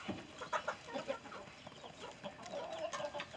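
Chickens cluck in a coop on a small farm, several birds making close, irregular bursts of soft clucks and chatter with no talking.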